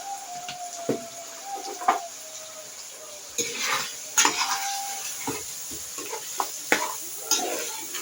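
Chicken pieces tossed with salt, chilli and a ground spice blend of coriander, fenugreek and cumin, scraped and stirred in a pan with a utensil, giving intermittent scrapes and clinks over a faint sizzle.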